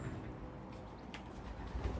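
Racing pigeons coo softly inside a loft, with low, murmuring calls over a quiet room background and no talking.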